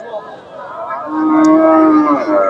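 A Friesian bull at a cattle market moos in a long, low, drawn-out call that swells louder toward the end, close by, with faint background noise and no speech.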